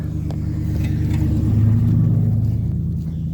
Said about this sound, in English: There's a vehicle coming.